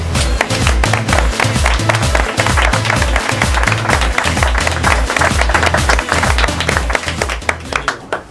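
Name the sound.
audience applause at a book presentation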